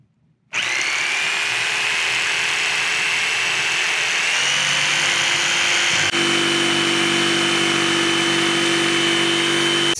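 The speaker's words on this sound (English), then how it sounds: "I did make a little cut right here with the jigsaw" A jigsaw starts abruptly and runs steadily while cutting a strip for an offroad roof rack wind fairing, a loud close buzzing whine that shifts to a lower, steadier tone partway through.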